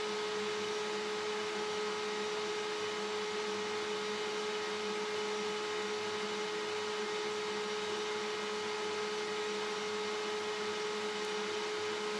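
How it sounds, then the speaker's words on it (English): Steady ventilation hum in a laser engraving studio during a cardboard engrave: a continuous droning whir with a fixed tonal whine, unchanging and moderately loud throughout, with no talking. "I apologize for the humming noise."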